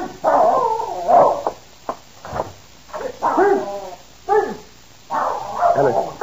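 A dog barks in short bursts and whimpers between them, fairly close, with gaps of quiet, in an old radio drama scene.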